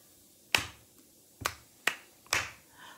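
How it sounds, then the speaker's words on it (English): Children in a third-grade music lesson clap along in a sparse pattern, four sharp, close claps spaced unevenly over a few seconds against an otherwise quiet classroom. "Keep clapping."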